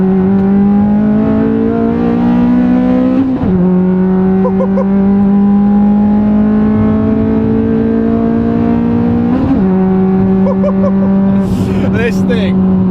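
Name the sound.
car engine revving at full throttle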